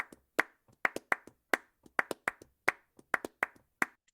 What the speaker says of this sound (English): it's a hand clap percussion called palmas